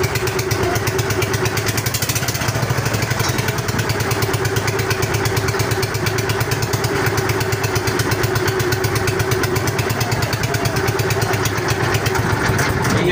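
A steamer boat engine runs on the Yamuna river, a loud, close, steady rapid chugging with a rattling edge that continues unbroken.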